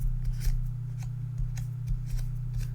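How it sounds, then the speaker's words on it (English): Scissors snipping out pieces of paper for a handmade Christmas mini folio album, a handful of soft close cuts spread irregularly over a few seconds above a steady low hum. "Let's cut that one out beautiful."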